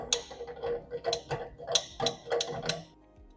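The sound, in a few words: exhaust filter being unscrewed from a 2Create metal 3D printer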